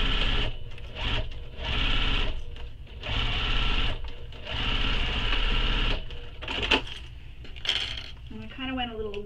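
A sewing machine stitches tote bag lining pieces in repeated close, loud runs of fast rhythmic whirring, broken by short stops, with a brief clatter near the end.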